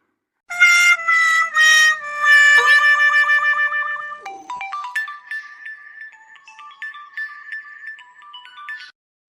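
A phone ringtone plays a bright electronic melody, repeated tones and a bouncy jingle, loud and close, with no voices.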